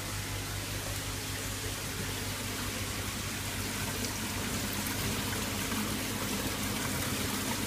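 RO water trickling steadily into an 8-foot octagonal garden pond, a constant close splashing hiss with no breaks, alone.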